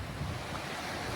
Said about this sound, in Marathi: हा समुद्र आहे.